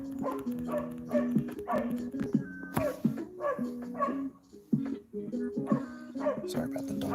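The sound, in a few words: dogs barking and whimpering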